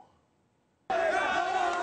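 Dense roar of a large crowd of demonstrators protesting in Tahrir Square, Cairo, during the 2011 Day of Rage, cutting in abruptly after near silence and holding loud and steady.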